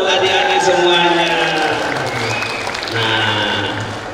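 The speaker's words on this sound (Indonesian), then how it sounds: "tepuk tangan dulu dong buat adik-adik semuanya" An audience at a children's comic talk show applauds, with loud, sustained clapping and some cheering from a crowd. A voice speaks through the applause.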